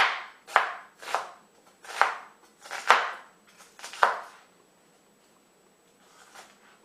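Onions being chopped by hand with a knife on a cutting board: six distinct, evenly spaced knife strikes ring out close and clear, then a short pause before a softer final cut, with no talking.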